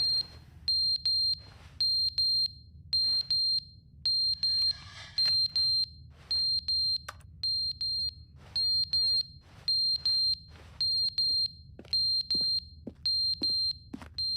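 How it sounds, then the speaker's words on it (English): A smoke detector in a video game chirps with a low-battery warning, giving a steady run of short, high, evenly spaced electronic beeps over a low background hum, with no talking. "I guess the battery is dead in the, smoke detector there?"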